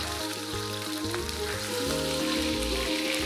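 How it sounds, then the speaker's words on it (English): Fish fries in a pot with a steady, dense sizzle and crackle that continues without a break. A low musical tone plays underneath, and no one talks. "Fry the fish till it's lightly brown."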